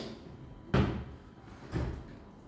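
A lower kitchen drawer thuds shut twice, two close, dull wooden knocks about a second apart with quiet room noise between.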